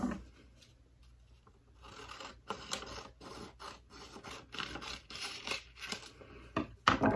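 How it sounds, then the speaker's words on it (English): Scissors snipping a strip off folded paper, a run of quick crisp cuts and rustles close by, growing busier toward the end with no talking. "then we're gonna cut off this strip here"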